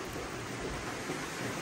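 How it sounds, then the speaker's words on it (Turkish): Heavy rain falling at a beekeeping apiary, a dense, steady hiss of rainfall with no breaks and no voices, close and fairly loud throughout. "Çok güzel bir yağmur yağıyor değerli arkadaşlar."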